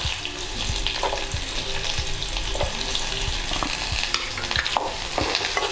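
Mustard seeds, curry leaves and onion frying in oil in a pan for a South Indian dish, an even close sizzle under repeated rhythmic scrapes of a spoon stirring the pan, steady throughout with no voices.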